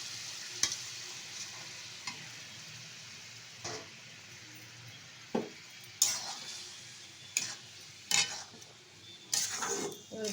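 A coconut and jaggery mixture is stirred in a pan, giving quiet scraping and sticky stirring noises. A series of sharper spoon-on-pan knocks comes at irregular intervals, and they grow more frequent toward the end.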